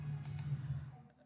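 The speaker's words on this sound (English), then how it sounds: "I will just click here" Two quick computer mouse clicks near the start, sharp and close, sounding over a low steady hum from a desktop setup while placing signals on live trading charts.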